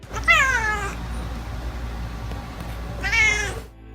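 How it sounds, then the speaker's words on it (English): A cat gives two distinct meows, one near the start and one near the end, separated by a quiet pause with faint background hum. "communicate with humans, meowing."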